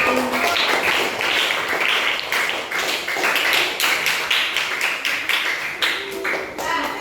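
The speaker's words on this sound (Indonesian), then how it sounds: "Tepuk tangan untuk kelompok" Schoolchildren in a grade four classroom clap for a presenting group, a steady patter of many hands, close and lively, with voices mixed in.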